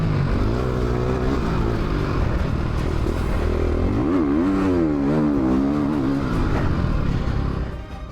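A 450 dirt bike screams around a motocross lap, its engine loud and close, revs climbing and dropping in quick sweeps through shifts and corners, with no talking.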